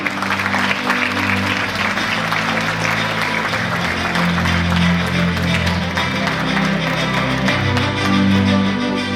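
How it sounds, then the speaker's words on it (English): Steady applause from a large audience at a school investiture ceremony, sustained and even throughout, with a dense wash of clapping hands. "Let's applaud these future leaders from the MYP."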